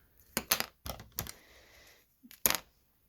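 Snips from scissors cutting a strip of metal mesh, about five sharp, close clicks in irregular succession with short gaps, the last pair after a longer pause.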